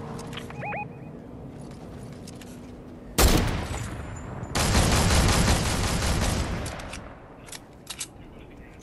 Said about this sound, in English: Since when does this gun shoot like that?